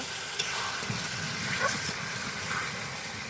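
Meat stir-frying in a pan gives a steady, close sizzle with occasional stirring scrapes and clinks, continuous throughout, with no talking.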